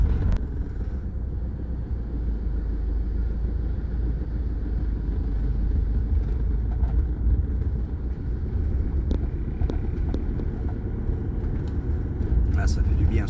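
A camper van driving along a rural village road, with a steady low engine and road rumble heard from inside the cab throughout, level and continuous.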